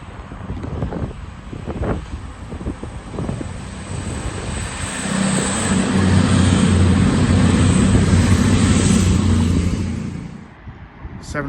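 A Plymouth–Edinburgh passenger train pulls away from Chesterfield, with a loud low engine drone that swells and holds at its peak through the middle, then fades, while wind buffets the microphone and some brief voices and noise come early on.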